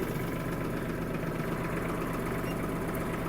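A Kubota KL-230 FL Japanese mini tractor's diesel engine runs with a steady, loud low rumble and vibration throughout, close up and without speech.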